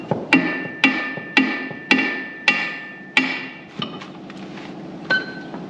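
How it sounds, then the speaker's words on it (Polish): Hand hammer driving something in at a work site, six sharp metallic strikes in a steady rhythm followed by a lighter clink, close and loud with no talk. "Teraz muszę go wbić tu. Czekaj, młotek daj."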